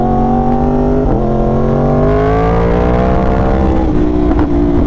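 A Yamaha R1 superbike engine runs loud and close in a continuous revving drone, its pitch climbing slightly and then easing back, with no one speaking.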